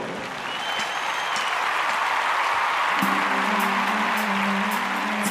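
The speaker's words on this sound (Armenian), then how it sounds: "Ծափերը, ծափերը, ծափերը," An audience claps in loud, sustained applause at the opening of a live event. A low musical tone comes in partway through under the steady clapping.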